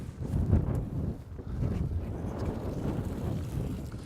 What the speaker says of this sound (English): we got a wind blowing at the side here